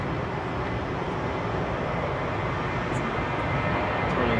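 A Boeing 737 airliner taxis at Manchester Airport, its engines giving a steady, broad jet rumble and hiss that holds at an even loudness throughout, heard from a distance with no voices.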